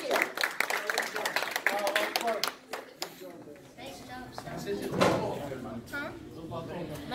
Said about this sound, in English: Please give that round of applause, please.